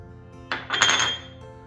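A utensil briefly clinks and scrapes against a bowl while soy sauce and oyster sauce are stirred into a marinade for Hainanese chicken rice, one short burst of clattering in otherwise quiet surroundings.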